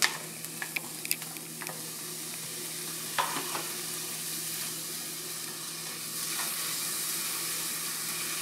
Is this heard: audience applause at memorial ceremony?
no